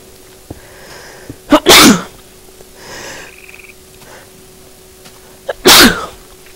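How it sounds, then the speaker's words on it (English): Two loud, close sneezes, spaced a few seconds apart, break a quiet room tone, with small sniffs and soft noises between them. "a little bit of sneezing action there"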